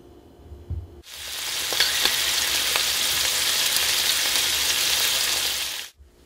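Halibut sears in a pan over medium heat, a loud, dense sizzle that bursts in suddenly, holds steady for about five seconds with small pops, then cuts off abruptly.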